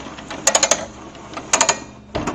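A ratchet strap being cranked and locked makes two quick bursts of sharp metallic clicks, each a rapid run of four or five ticks, then a final heavier clunk, close and crisp with no talk.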